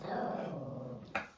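A dog growls in a low, rough, sustained rumble at close range, ending in a short sharper yelp-like burst.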